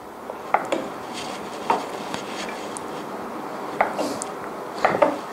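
A knife cuts a sheet of tofu into pieces on a board, with sparse single taps and knocks at irregular intervals over a quiet background.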